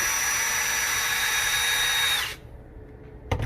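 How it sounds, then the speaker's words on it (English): A cordless drill spins a line spool at a boat show, whining loudly and steadily for about two seconds before it stops, followed by a quiet pause and a short clatter. "using the drill, all you do is put it onto the shank on the spool"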